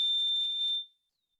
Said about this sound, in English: I think this is my smoke alarm going off in my house right now.